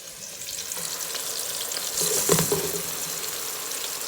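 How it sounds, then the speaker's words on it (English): Chopped onions sizzle and fry in a pot for Nigerian rice-and-beans jollof. The steady, close crackle runs throughout, with a brief louder burst of stirring or movement in the middle. "So the onions is there now. Just leave that to fry."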